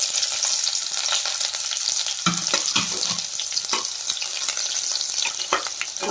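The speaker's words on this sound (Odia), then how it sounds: "ପିଆଜ ଟିକେ ଦବା ଭାଜି" Chopped onion frying in hot oil with a little cinnamon, a loud continuous sizzle close by, broken by spatula scrapes and stirring clatter against the pan.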